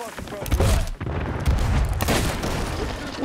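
Gunfire in the pirate game Sea of Thieves during a player-versus-player ship fight, heard as dense bursts of shots and booms close by, overlapping one another under excited voices.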